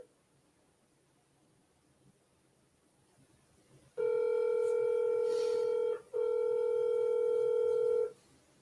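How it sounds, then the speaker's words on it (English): An outbound phone call ringing out, with a quiet low hiss followed by two long, loud, steady ringback tones separated by a short gap, and no voices. "we're just gonna leave that dialing on here while I'm waiting"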